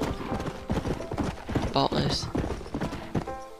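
Horse hooves clip-clop in rhythmic beats in Red Dead Redemption, a steady trotting pattern close by with brief mechanical and tonal game sounds, while someone talks over it.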